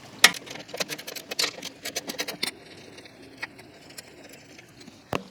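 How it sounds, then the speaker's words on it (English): Metal spanner loosening two bolts on a Cobra Fortis 17E cordless lawnmower while fitting the brake, giving sparse close clicks, taps and light metallic scrapes with quiet gaps between them. "we're going to use the spanner provided by Cobra to undo these two bolts here"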